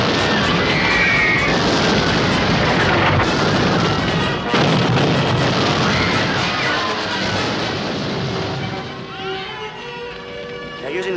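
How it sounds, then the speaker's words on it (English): Big guns of artillery firing in a besieged city, a dense rumbling barrage of booms and blasts, loud and sustained, with voices mixed in under the noise. "They're using the big guns now."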